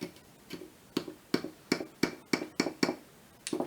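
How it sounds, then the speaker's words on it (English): A mallet drives a chisel into a hard clay block in a children's dinosaur dig kit. About a dozen sharp, close-up knocks come at a fairly regular pace, with a short pause near the end. "Using the chisel and mallet, carefully dig into the clay block and carve out the dino hidden inside"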